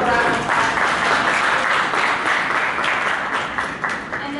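Audience applause at a yacht club gathering, a dense steady wash of clapping that stays loud and even for several seconds before easing slightly near the end.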